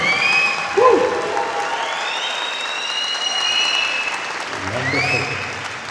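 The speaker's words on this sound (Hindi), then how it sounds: "एक बार जोर से यीशु के लिए ताली हो जाए" A church congregation claps loudly for Jesus, a dense, continuous wave of applause mixed with cheering and shouted voices, swelling again briefly near the end.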